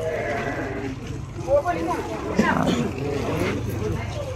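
Goats bleating in a village during Eid al-Adha sacrifice preparations, short wavering cries rising amid a busy crowd with people talking throughout.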